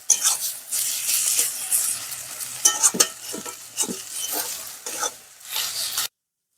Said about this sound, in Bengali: পিঠা দেওয়ার পরে এভাবে কিন্তু ঘাটতে হবে নাহলে কিন্তু নিচে লেগে যাবে